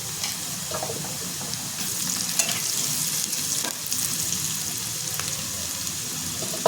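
Vegetables sauté in a pan with asafoetida and turmeric, a steady broad frying sizzle running throughout with scattered soft stirring scrapes and clicks, fairly close and even in level.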